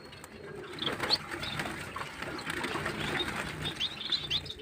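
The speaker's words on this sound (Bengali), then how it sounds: "এখন চলে এসেছি পাখির ঘরে আর আমার পাখিগুলো দেখুন" Pigeons in their loft give soft coos and brief wing flaps over steady background rustle, close and moderately loud throughout, with no talking.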